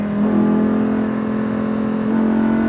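A Lamborghini Huracan accelerating on a race track, its engine a loud, sustained drone with a steady pitch, heard alone without talk.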